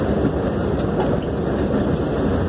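A truck loaded with melons accelerates along highway BR-316, a broad rumbling drone of engine and road noise heard from inside the cab, steady and fairly loud.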